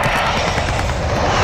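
Helicopter flying overhead in the Call of Duty Warzone battle royale game, a steady broadband rotor and engine drone holding at even loudness throughout, with no talk over it.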